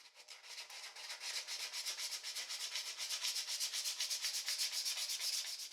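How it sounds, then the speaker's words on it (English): Rhythmic hand sanding of a spinning wooden ice cream scoop on a lathe, a steady back-and-forth hiss repeating about twice per second, close up. "I had to do a fair amount of hand sanding to try to get the radial scratches out"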